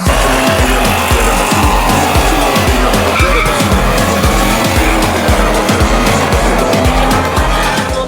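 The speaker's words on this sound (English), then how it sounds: "We blew the tires and we went through about half of the wheel" Pickup truck tires skidding and squealing through a burnout, then blowing out, with loud continuous tire screech over a roaring engine and rapid rhythmic pulsing throughout, music faintly underneath.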